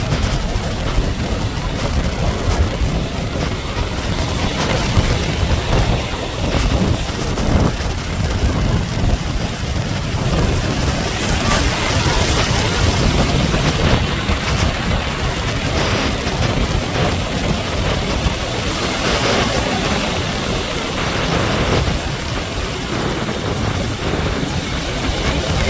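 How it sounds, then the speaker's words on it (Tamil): Sea waves crash against rocks beside a built structure on a windy coast, a loud continuous roar of surf and gusting wind with no clear breaks. "அதில் அந்த அலை மோதி அந்த மேல் விளம்புறது பாருங்களேன்"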